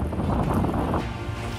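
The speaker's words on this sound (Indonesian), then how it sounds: "deru mesin pompa berpadu dengan gemuruh angin laut" Pump engine at a seaside salt farm rumbling beneath gusting sea wind, a dense steady roar with wind buffeting the microphone, no talking.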